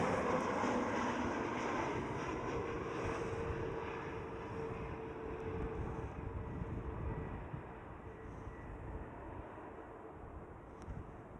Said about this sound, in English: Iberia A320neo